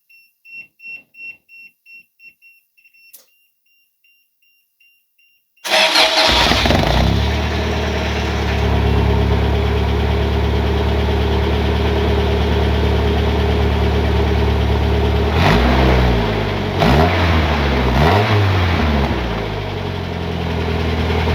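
A few short beeps, a brief pause, then the engine of a 1995 Dodge Neon cranks and catches, settling into a loud, steady idle with a couple of revs.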